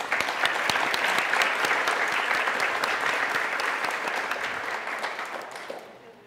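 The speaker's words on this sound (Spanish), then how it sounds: "para quien también pido el aplauso respectivo." An audience at a psychology panel discussion in Guatemala gives steady, dense applause for an introduced speaker, loud and continuous for about six seconds before tapering off.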